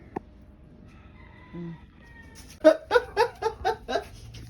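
Cats fight in a short burst of loud, rising yowls and caterwauls, about six harsh cries in quick succession after a quieter stretch with a few faint calls, close by and with no talking over them.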